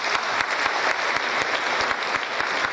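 A concert audience claps loudly and steadily in a dense, continuous round of applause that fills the hall from start to finish.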